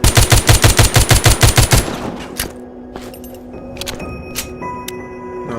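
Rapid automatic gunfire in the zombie shooter game The Walking Zombie 2, about a dozen evenly spaced loud shots in a burst, followed by scattered clicks, clanks and a few lighter impacts.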